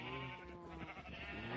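A Minecraft sheep bleats in a steady wavering tone on a small farm kept with cows and crops, close and fairly soft, lasting the whole moment without any voices.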